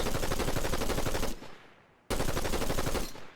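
Rapid automatic assault rifle fire in Fortnite, a loud sustained burst of fast shots that fades off, then a second burst starting abruptly after a short pause.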